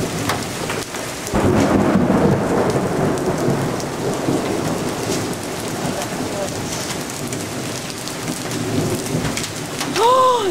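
A thunderstorm with heavy rain roars steadily close by, a deep rumble of thunder rolling under the continuous downpour hitting surfaces, with no distinct hail impacts standing out.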